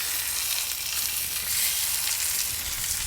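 A tomahawk ribeye sears on a soapstone slab on a Kamado Joe grill running at about 500 degrees, giving a constant, even, close sizzle with no break.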